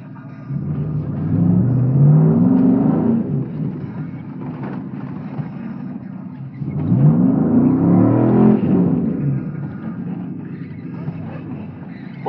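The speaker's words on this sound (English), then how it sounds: "Boy, that Chevy sound mean." A 2000 Chevy Silverado with the 4.8 V8 revs up twice in snow, each surge rising to a loud, growling roar before falling back to a lower rumble.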